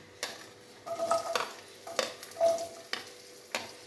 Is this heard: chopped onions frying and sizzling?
yes